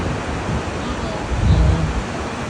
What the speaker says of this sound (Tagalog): Pero yung alon, malakas pa rin.